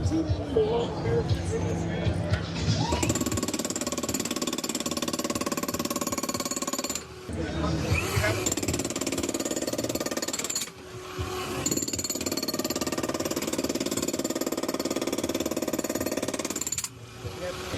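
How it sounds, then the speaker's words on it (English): A DeWalt PowerShift demolition hammer rattling at a trade show booth, loud sustained hammering in long bursts with short breaks, while people talk over busy crowd babble. "we're launching the new PowerShift H&H Hex demolition hammer on the PowerShift lineup"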